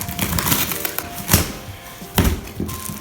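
A cardboard box torn open by hand, close ripping and tearing with sharp rustling bursts and crackling between, loud and alone.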